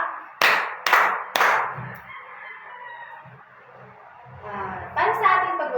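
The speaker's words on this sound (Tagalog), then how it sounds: "bigyan nyo ang inyong sarili ng 3 palakpak" Three sharp, evenly spaced claps from a class, loud and close, followed by a quiet pause and then a voice speaking.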